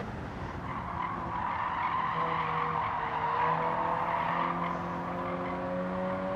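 Car drifting sideways on a race track, tyres skidding and squealing in long sustained tones under a steady engine roar, loud and close without a break.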